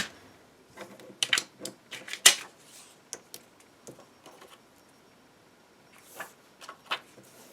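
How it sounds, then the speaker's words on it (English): A tape runner lays adhesive on a handmade shaker card, giving scattered dry clicks and short ticking rasps in irregular bursts, close and fairly quiet, with no talking. "So I'm just going to run some of my tape runner that I ran out of."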